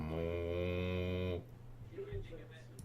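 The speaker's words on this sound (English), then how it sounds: "I just hear cow noises in the background." A cow lets out a long, sustained moo in the background, steady for over a second before cutting off, followed by faint low rumbling sounds.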